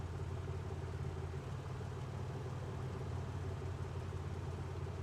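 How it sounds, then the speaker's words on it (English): A car engine in the video game A Wolf in Autumn runs at a steady, quiet idle, a low continuous rumble with no talking over it. "Start the engine."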